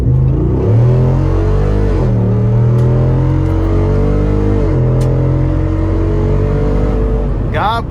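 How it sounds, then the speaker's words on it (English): A 2024 Jeep Wrangler 392 Rubicon with stock exhaust roars loudly through repeated hard accelerations, its deep engine note rising and briefly dropping at gear changes, heard up close from inside the cabin. "This exhaust is killer."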